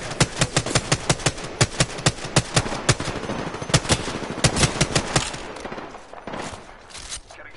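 Video game gunfire rips out in rapid automatic bursts, loud and close, with dense repeated shots through the first half and a few scattered, fainter shots toward the end.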